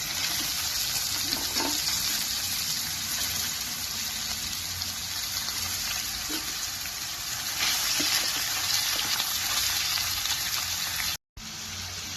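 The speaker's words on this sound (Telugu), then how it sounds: "క్యాప్సికమ్ కూడా వేసుకొని ఒక 30 సెకండ్స్ బాగా హై ఫ్లేమ్లో బాగా కలుపుకోండి" Capsicum and cabbage stir-fry on a high flame for egg noodles, with a loud, steady sizzle and faint clinks of stirring. The sound runs continuously without talk and cuts out briefly near the end.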